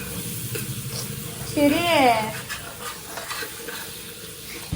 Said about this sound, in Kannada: ಪುದೀನ ಸೊಪ್ಪು ಇದನ್ನೆಲ್ಲ ಫ್ರೈ ಮಾಡ್ಕೋಬೇಕು.